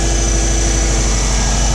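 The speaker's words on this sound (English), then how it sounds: "Sorry if the noise quality's been kind of bad with the engine running." Subaru WRX engine idling in a garage during a head gasket replacement, a steady, loud, close low rumble that holds without change and with no talk over it.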